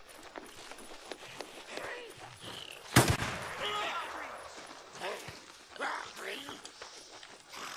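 In the video game Days Gone, a single sharp gunshot rings out in the distance over the game ambience, and a person talks at times.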